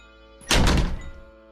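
A kitchen door is slammed hard once, a single loud, close thunk that rings out briefly in a quiet room.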